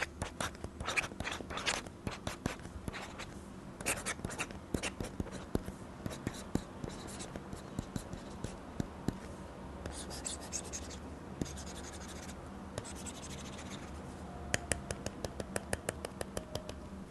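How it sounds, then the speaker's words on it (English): A hard plastic stylus nib, a Staedtler Noris Digital, writes on a Samsung NotePaper screen protector on a Galaxy Tab S9, making close, quiet scratchy strokes and tapping ticks in irregular bursts. "I've just switched over to using the Staedtler Norris Digital with a plastic nib to let you hear the sound of the plastic nib on the surface"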